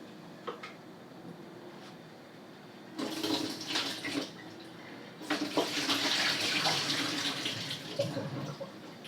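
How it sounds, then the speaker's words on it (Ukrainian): Cucumber brine from a batch of lightly salted pickles poured down a kitchen sink, two bursts of splashing, gurgling liquid, the second longer and steadier, heard close with no talking. "розсів з огірків виливаю у мийку"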